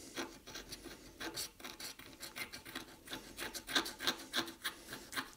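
Close, rhythmic scraping on a Campagnolo Colnago bicycle chainring during restoration, a series of rasping back-and-forth strokes growing stronger toward the end, with no talking.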